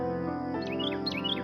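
A small, lonely, hungry bird chirps in a barren field beside a village, a few bright, rising tweets over a steady musical background, close and clear with no talking.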